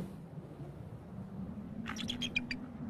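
An eagle covered in snow calls out to its mate in harsh winter conditions, a short burst of shrill, rapid cries over a steady low rumble of wind.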